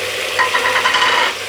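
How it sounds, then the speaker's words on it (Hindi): Green chillies and tomatoes hit hot oil in a pan, giving a short, close burst of sizzling and stirring that swells briefly and then settles, with no one speaking. "अब मैं इसमें डालती हूँ हरी मिर्च और टमाटर"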